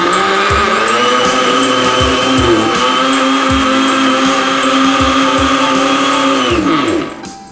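A blender pulses homemade BBQ sauce: a loud, steady motor whir with a faint rhythmic knocking, running for about seven seconds before spinning down and cutting off.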